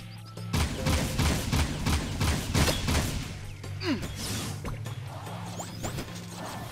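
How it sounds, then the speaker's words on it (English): Metalhead enemies firing on the player in the Jak II video game, with rapid bursts of shots and impacts crackling over a steady low game soundtrack, continuous and fairly loud throughout. "There are a lot of metalheads shooting at me."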